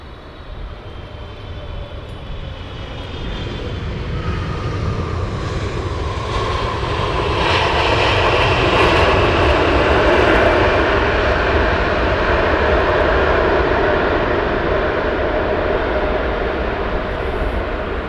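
A Turkish Airlines airliner at London Heathrow Airport roars with jet engines, building from a distant rumble to a loud sustained whine and roar that holds to the end.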